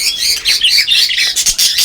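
Busy, high-pitched bird chirps and squawks overlap almost continuously, close and fairly loud, with no talking.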